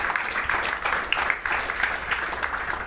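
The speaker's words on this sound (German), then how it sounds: "Ich denke, einen herzlichen Applaus" An audience at a business club discussion on banking ethics claps warmly for a guest, producing an even, continuous wash of applause from many people throughout, with no talking over it.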